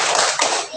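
A classroom of children claps together in the Tepuk Al-Quran rhythm, a dense burst of many hands heard close up, with a brief break and then more claps.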